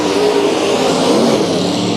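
Race car engine roaring during a heat race at Bakersfield Speedway, a loud, steady, continuous drone of a fast car at full throttle, close and sustained throughout without pause.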